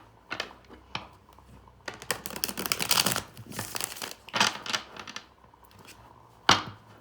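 Tarot cards are shuffled by hand in a quiet room, a run of crisp riffling and flicking bursts of uneven rhythm, close and moderately loud, ending in a sharp final snap.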